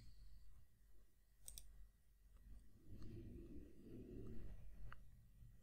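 A few quiet, crisp computer mouse clicks, spaced seconds apart, sound faint against a low background hum while navigating Windows 11 settings.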